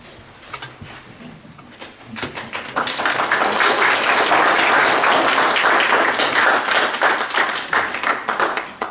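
Audience at the Livermore Reads Together library kickoff event bursts into applause, a few scattered claps at first swelling into loud sustained clapping from a roomful of people.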